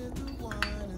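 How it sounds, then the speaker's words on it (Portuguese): A spoon mixes cornstarch into a little milk in a cup or pot, giving brief faint clinks and scrapes over a steady background hum. "Vem aqui, misturo, misturo."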